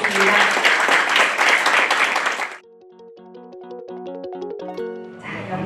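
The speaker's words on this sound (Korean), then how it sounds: "여러분 큰 박수 부탁드리겠습니다." Applause from an audience at the 2022 NH Nonghyup Bank Korean Women's Baduk League award ceremony, a loud, dense wash of clapping for about two and a half seconds that cuts off into a tonal passage, then resumes.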